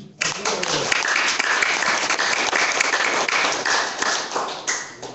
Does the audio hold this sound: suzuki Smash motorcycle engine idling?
no